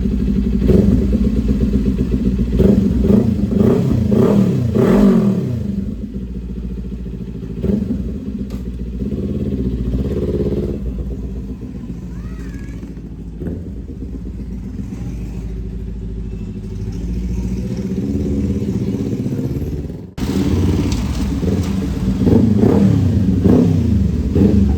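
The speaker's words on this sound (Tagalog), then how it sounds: "So pwede natin i-andar yung motor." A Kawasaki Ninja 400 with an ABS fault idles and revs repeatedly up close, engine note rising and falling in several bursts with mechanical clatter between, loud and continuous.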